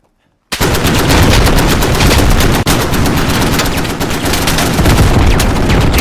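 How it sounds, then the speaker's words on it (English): Dense, continuous automatic gunfire from a live fire exercise in the video game Squad erupts suddenly after a moment of silence and keeps hammering loud and close in rapid bursts for several seconds. "You will be stressed, and this is a live fire exercise."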